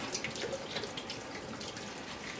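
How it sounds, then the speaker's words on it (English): Running tap water rinsing a lobster during cleaning, a steady close splashing spray with small irregular drips and spatters for the whole stretch. "And the running water is always the easiest way to do this."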